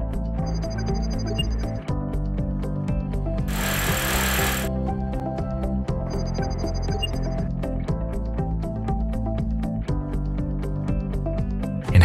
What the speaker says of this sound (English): Follow the installation manual to drill holes.